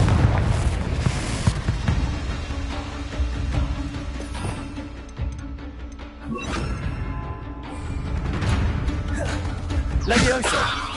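Confringo fire-spell blasts in the Hogwarts Legacy video game go off as several loud, booming explosions with crackling debris, spaced through the stretch amid ongoing combat noise.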